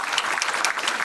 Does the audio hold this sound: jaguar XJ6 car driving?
no